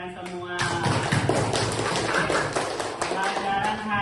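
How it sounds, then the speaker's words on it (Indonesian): Classroom students applauding together, a dense continuous burst of hand clapping, loud and close, with voices mixed in throughout. "tepuk tangan untuk kalian semua"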